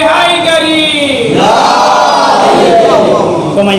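A packed majlis crowd shouts a religious slogan in unison, loud, close and sustained, the massed voices rising and swelling together in a couple of surging bursts.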